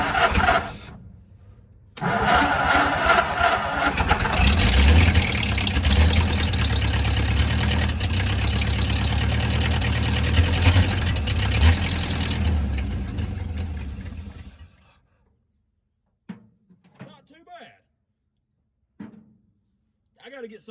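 A 1949 Ford F-5 truck with a flathead V8, low on compression, cranks and catches, then runs with a loud, rough, rattling idle for about twelve seconds before the engine cuts out, leaving near-silence and a few faint human sounds.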